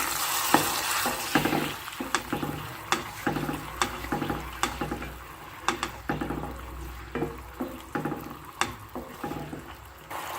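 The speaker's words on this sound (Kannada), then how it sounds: "ಇವಾಗ ಈ ಹುಣಸೆ ರಸಕ್ಕೆ ಒಗ್ಗರಣೆನ ಹಾಕೋತಾ ಇದ್ದೀನಿ ನಾನು" Hot tempering hits tamarind juice in a pan on the stove, giving a steady sizzle broken by repeated sharp clinks and scrapes of stirring at an irregular rhythm, close and alone without talk.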